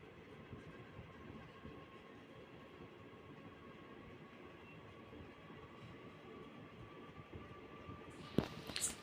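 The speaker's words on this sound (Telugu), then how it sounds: "మన ట్రైన్ అయితే అనకాపల్లి నుంచి స్టార్ట్ అయిపోయింది" A train leaving Anakapalli station rolls steadily along the tracks with a continuous low rumble and faint hum, followed near the end by a brief loud clatter.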